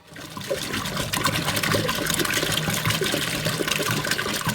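Rinse water gushing and splashing steadily out of a rusty motorcycle gas tank being cleaned, a loud, continuous rushing pour that starts abruptly and holds.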